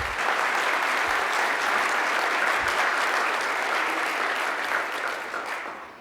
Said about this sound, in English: let's just go ahead and give them a quick round of applause